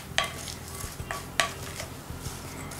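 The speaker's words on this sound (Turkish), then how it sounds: "son olarak elmayı koymadan önce karıştırıyoruz" A spoon stirs dry granola ingredients in a bowl, giving soft scraping and a few sharp clinks against the bowl, faint and close with no talking.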